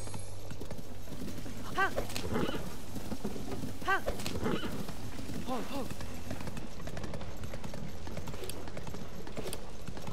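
Horse hooves clip-clop through gameplay in Zelda: Tears of the Kingdom, a moderately loud, irregular trotting rhythm over steady ambient game sound, with a man's brief exclamations on top.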